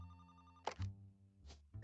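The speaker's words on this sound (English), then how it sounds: "Phone call." A telephone rings in a mystery puzzle video game, a faint, soft electronic tone with a few brief clicks, alone and without speech.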